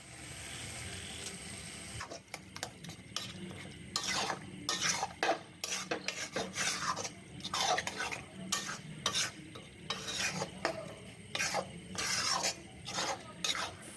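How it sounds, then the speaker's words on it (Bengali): Masala with chopped chili and tadka dal being sautéed in a pan, a rapid series of close scraping stir strokes over a steady sizzle, loud and rhythmic. "খুবই ভালো করে মশলাটা কষাতে হবে।"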